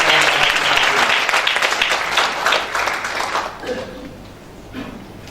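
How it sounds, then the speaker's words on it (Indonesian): Dense, sustained applause from a church congregation fills the room, loud at first and then thinning and fading toward the end. "beri tepuk tangan Ibu Yongki."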